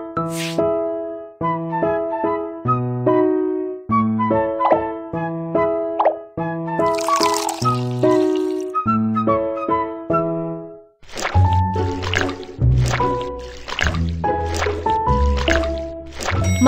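Stirring a cucumber face mask in a Baby Bus cartoon game, heard as a run of bright, wet plopping and dripping tones in quick rhythmic bursts over light game music, clear and close with no talking.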